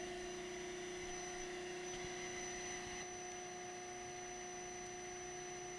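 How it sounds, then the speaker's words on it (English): Steady mechanical whine with strong constant tones from a Kinsler high-speed fuel injection bypass valve running on a flow bench, continuous and even throughout with no talk. "it is then put on the flow bench and tested for operation"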